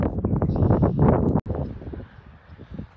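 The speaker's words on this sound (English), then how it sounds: "because it's of course windy here at my house again, like usual" Steady wind noise buffets the microphone outdoors, loud and broadband for the first half, briefly cutting out, then continuing lower and gustier.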